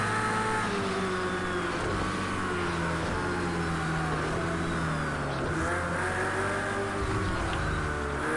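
A BMW racing car in Project Cars 2 roars continuously at high revs, pitch rising and falling through gear changes, loud and close with no talk.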